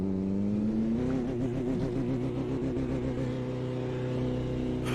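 A video game car engine climbs steadily in pitch as it accelerates, a smooth continuous revving drone that stays loud and close for several seconds with no talk over it.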